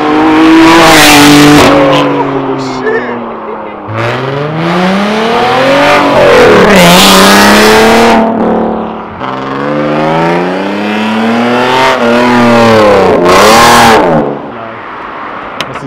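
A loud Honda car engine at a car show revs hard repeatedly, rising and falling in long sweeping pulls very close by, with brief lulls between bursts.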